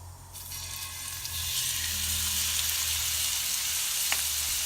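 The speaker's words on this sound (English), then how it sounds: "I'm going to turn this on high. That way we can just get a good sear" Shrimp seasoned with salt, pepper and a drizzle of truffle oil sear in hot bacon grease over high heat, giving a loud, steady, close sizzle with no talking.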